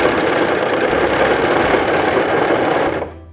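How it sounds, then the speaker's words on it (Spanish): A Brother CV3550 coverstitch machine sews in a steady, fast, continuous whirr at close range for about three seconds, then abruptly stops. "y luego presionando el pedal para comenzar a coser."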